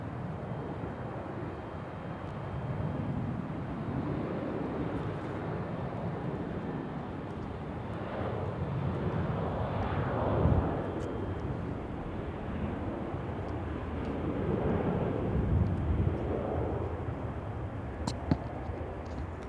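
An airplane departs from Charlotte airport with a broad, distant jet roar that swells and fades gently over twenty seconds, mixed with gusty wind buffeting the microphone, with no voices.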